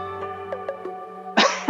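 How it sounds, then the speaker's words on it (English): A single person's cough bursts out loud and close near the end, after a few faint breathy sounds over a steady low electronic hum, with no talking. "Pardon me as I cough."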